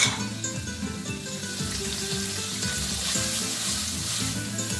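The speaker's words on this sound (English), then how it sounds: "we're going to mix the rice together with everything in the pan" Rice is stirred into sofrito and squid in a pan for seafood paella. A loud, continuous sizzle carries repeated scraping strokes of the spoon across the pan, and no one speaks.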